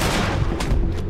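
A shotgun firing slugs in Red Dead Redemption 2: loud, booming gunfire that blurs into a dense, rumbling burst over about a second.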